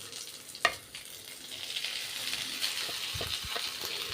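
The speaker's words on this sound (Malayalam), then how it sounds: "ഇപ്പോൾ ഉള്ളി ഒരുവിധം മൂത്ത് വന്നിട്ടുണ്ട് നമ്മുടെ മുരിങ്ങയില ഇട്ട് കൊടുക്കാം" Chopped drumstick leaves go into a pan of browned onion and green chilli. A faint, steady sizzle follows, with a sharp clink early on and a few soft utensil knocks near the end.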